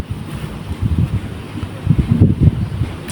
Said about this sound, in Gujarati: અને પવન એટલો હતો ને વરસાદ ચાલુ થવાની તૈયારીમાં હતો.